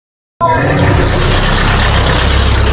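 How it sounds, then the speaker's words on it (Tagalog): Loud, steady street traffic of tricycles and jeepneys, a continuous engine rumble and roar that starts abruptly and stays dense and close throughout. "Ang ingay ng mga tricycle at jeep."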